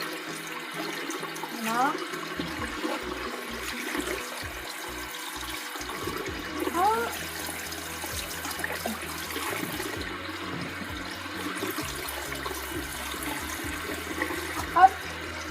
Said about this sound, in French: Donc après vous allez venir rincer. Tout en faisant attention à ne pas les mouiller de l'intérieur.